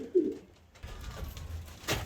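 A pigeon in a breeding loft gives a soft cooing call at the start and again near the end, close by, over low background rumble and rustling.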